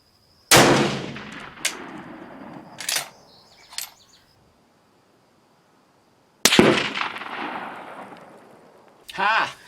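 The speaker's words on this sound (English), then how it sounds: "Steyr seems to be shooting pretty well today." Rifle shots from a Steyr at an outdoor range: one sharp loud crack with a ringing tail, a couple of smaller clanks, then a second loud shot after a long quiet gap, followed by a brief voice.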